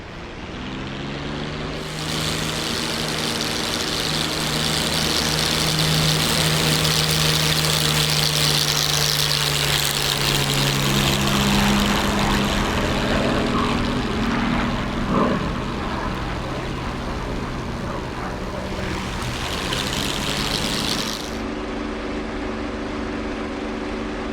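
A propeller-driven WWII fighter plane engine drones in a flight combat game set over France with B-17 bombers, holding a loud, steady rumble that swells and shifts in pitch for about twenty seconds.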